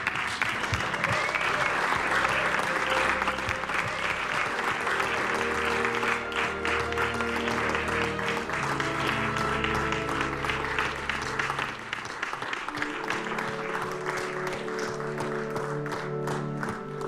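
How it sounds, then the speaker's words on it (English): An audience at a Hobbit behind-the-scenes event applauds loudly and steadily for about seventeen seconds, dense clapping with crowd noise and some music-like tones underneath, easing slightly near the end. "let's give you a big round of applause"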